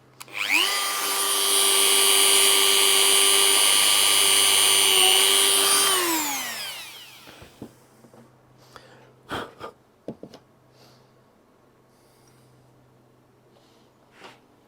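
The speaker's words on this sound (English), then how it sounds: "then we'll drill a new hole which will miss that baseboard" A loud, steady high-pitched whine of a power drill running for several seconds, then winding down, followed by scattered knocks and clicks.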